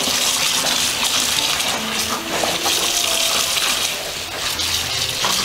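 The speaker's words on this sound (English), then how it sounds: "And I am adding water to it and washing it in that." A tie-dyed t-shirt is washed in water with detergent, producing a continuous close gushing and splashing that runs steadily throughout.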